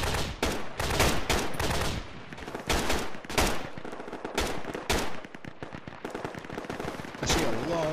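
Battlefield gunfire in Project Reality on the Goose Green map: repeated loud bursts of automatic fire with short gaps between volleys, crackling shots layered throughout, and faint voices under the shooting.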